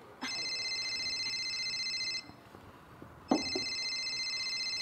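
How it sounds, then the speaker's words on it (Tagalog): Cellphone ringtone in a staged musical drama scene, two bursts of steady bright electronic tone, the first about two seconds long, then a short gap, then a second burst that continues, clear and fairly close over quiet room noise. "Cellphone ko."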